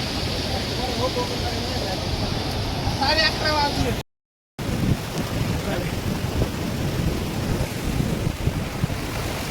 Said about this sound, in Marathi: वरती खूप पाऊस चाललोय